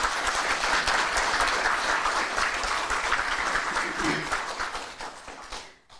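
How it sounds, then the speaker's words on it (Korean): Audience applause at a Korean party political rally in Gwangju, a dense, sustained wash of clapping from a large crowd that holds steady, then fades out over the last second. "다시 한번 뜨거운 박수 부탁드립니다"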